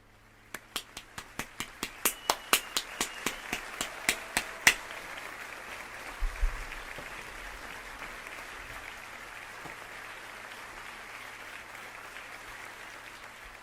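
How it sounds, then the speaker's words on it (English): A round of applause for two people at a live-streamed show, a quick run of sharp close claps over the first few seconds, then a faint lingering hiss and low background hum. "Round of applause for both of them."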